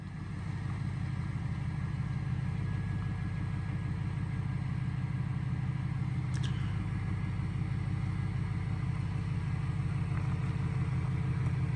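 A pickup truck rolls slowly down a driveway toward a gate with an actuator, giving a steady, close engine rumble that holds for several seconds without speech.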